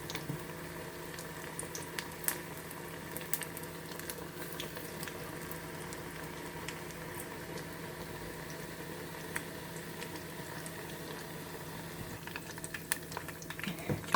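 Potato and onion pakoras frying in hot oil give a faint, steady bubbling and crackle that carries on evenly with scattered small pops and no voices.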